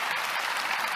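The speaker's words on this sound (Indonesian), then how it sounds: "Mungkin bisa tepuk tangan tuh kalau mendengar itu." An audience claps in dense, steady applause for a full second, loud and close with no talk over it.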